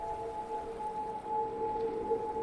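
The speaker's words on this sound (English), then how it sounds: "That's the sound of the crystal." A resonating crystal in the puzzle game Myst hums as a faint, steady pair of sustained ringing tones over a soft airy background.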